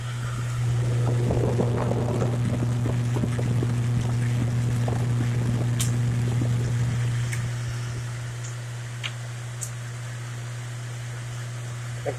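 A motor held at high speed, around 4,000 to 4,200 RPM, drones steadily and smoothly for about eight seconds with a strong low hum, then drops to a quieter level with a few faint ticks.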